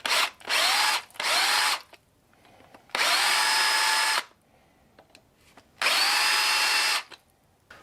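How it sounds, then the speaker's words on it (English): A power drill runs in four bursts into a rusted Fiat 500 sump, two short then two longer, each spinning up to a steady high whine with quiet pauses between. "So what I'm going to do is just drill this just to get a bit of bite"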